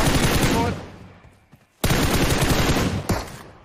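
Loud, close automatic gunfire in the video game PUBG Mobile comes as sustained rattling bursts, drops briefly into near silence, then returns just as hard, with a faint voice underneath.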